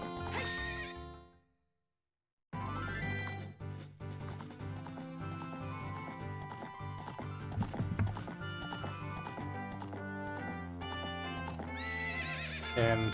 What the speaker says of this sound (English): You stole somebody's horse. Now we can traverse around Hyrule Field at a quicker pace.